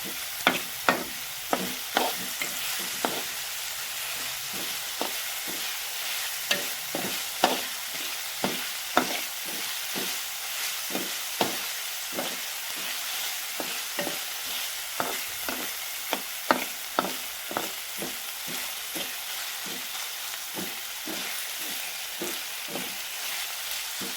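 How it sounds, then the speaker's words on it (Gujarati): Finely chopped tomato fries in hot oil under a constant loud sizzle while a spoon stirs it, with frequent sharp scrapes and taps against the pan heard close up and no speech. "ફરી વાર એમાં મિક્સ કરવાનું સરખી રીતે, તેલ છૂટું પડે ત્યાં સુધી"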